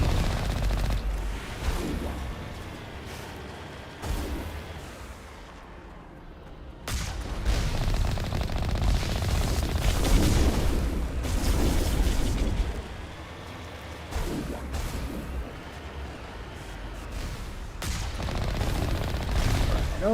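Gunfire and cannon blasts from the Mass Effect video game, sustained dense volleys and heavy booms that rise and fall over about twenty seconds, with a brief lull near the start and occasional talk mixed underneath.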